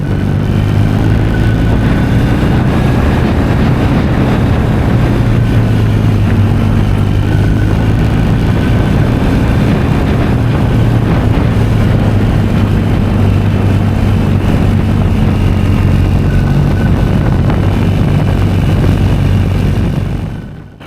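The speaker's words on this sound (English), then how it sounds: "the RS is a very heavy bike, and it's got a lot of torque" A heavy, high-torque RS motorcycle rides through turns on a mountain road, its engine a steady, loud drone with shifting low tones alongside constant wind rush, and no voices.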